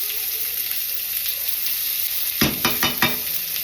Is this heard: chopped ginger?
yes